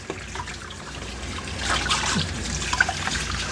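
Water trickles and splashes softly while a dog is bathed during home grooming, with a steady running flow and a few brief drips, close by and without talk.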